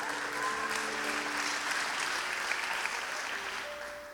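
Steady applause from a church congregation during a Sunday morning service, a dense, even wash of many hands clapping throughout, with faint sustained tones underneath and no talking.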